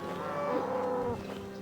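A cow in the RuneScape 3 video game gives a single low moo lasting about a second, close and clear, with no talking.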